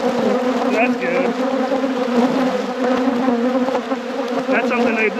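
Honeybees buzz loudly and continuously around an opened hive during an after-winter inspection of the fourth hive, the agitated drone rising and falling as individual bees pass close by.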